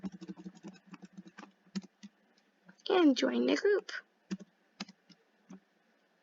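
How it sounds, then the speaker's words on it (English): Typing on a computer keyboard while building a loading screen in Roblox Studio: scattered, fairly quiet key clicks in short bursts, with a stretch of someone talking in the middle. "And now we can just keep typing this in."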